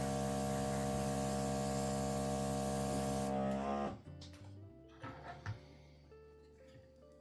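A Gaahleri TurboX Mini airbrush sprays primer with a loud, steady hiss and compressor hum for about three seconds, then cuts off, leaving faint clicks and handling noises.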